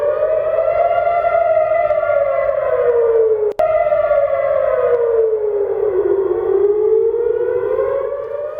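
A loud air raid siren in Tel Aviv wails steadily, its pitch slowly falling and rising in long sweeps, with one brief sharp click partway through and no voices.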